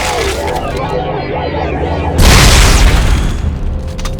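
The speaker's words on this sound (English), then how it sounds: "that's the secondary fire for the line gun in this game" Line gun secondary fire in Dead Space 2, a sudden loud booming explosion that cuts in after a stretch of muffled game noise and then rumbles on briefly.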